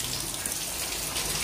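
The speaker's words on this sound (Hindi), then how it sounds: "दिन भर आज बारिश होगा ही होगा," Steady monsoon rain falls outside a home, a constant hiss of drops with water splashing and running off a ledge, loud and unbroken throughout.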